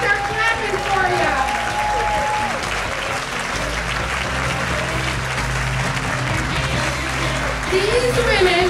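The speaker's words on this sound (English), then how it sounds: "We gotta start clapping for you" Loud, sustained audience applause at a women's business gala luncheon, dense clapping throughout as honorees walk to the stage, with voices and some whoops mixed in.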